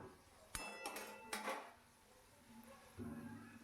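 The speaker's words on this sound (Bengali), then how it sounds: "আমি এইভাবে আলুটাকে সুন্দর করে নাড়াচাড়া করে ভেজে নেব।" A metal spatula clinks and scrapes against a pan as softened potatoes are stirred and fried for potol alu kopta curry, with a few sharp knocks close together early on and then a quieter stretch.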